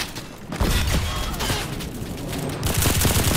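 Sustained rapid gunfire from a gun in the shooter CRSED, a dense, close stream of shots that holds steady for a few seconds and swells louder near the end.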